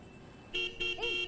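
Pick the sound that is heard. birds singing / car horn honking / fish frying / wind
car horn honking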